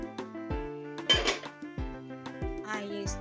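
A spoon clinks and scrapes against a cooking pot as githeri, a dish of maize and beans, is stirred, giving several sharp metallic knocks in an uneven rhythm, close and fairly quiet, with a voice faintly in the background.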